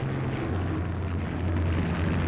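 A squadron of WWII P-47 Thunderbolt fighter planes taking off from a runway in 1943 produces a dense, continuous roar of piston engines with a steady low drone, loud and unbroken throughout.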